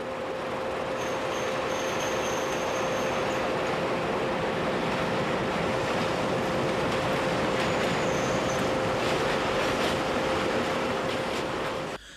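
A triple-headed train rolls along a busy single-track line in Portugal, producing a continuous, loud rumble of wheels and engines with a steady tonal hum, unbroken for the whole stretch.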